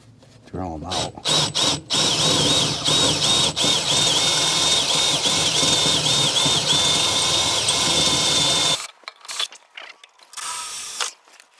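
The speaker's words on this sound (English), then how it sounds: "See if we can drill them out." A power drill whines steadily for several seconds as it drills out holes on a Polaris Ranger XP utility vehicle, with a few short bursts before and after, close and loud.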